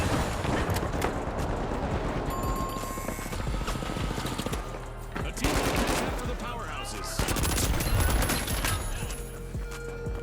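Rapid bursts of automatic gunfire from the video game The Finals, loud and dense and nearly continuous, with brief pauses between volleys.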